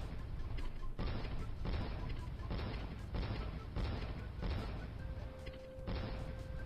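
Fireworks explode in the mobile game Tea Egg Adventure: a rapid series of loud, dense booming bursts, roughly one every half to three-quarters of a second, with a brief tone sounding near the end.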